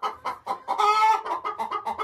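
Hens in a coop cluck close by in quick repeated bursts, about a dozen short calls with one longer drawn-out squawk in the middle, loud and clear with no talk.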